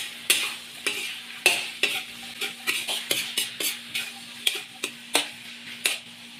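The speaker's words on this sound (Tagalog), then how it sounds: "Igisa." Shrimp sautéing in a pan, a spoon or spatula scraping and stirring in a steady series of sharp clinks over a soft, constant sizzle, close and clear with no talking.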